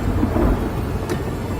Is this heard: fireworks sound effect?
no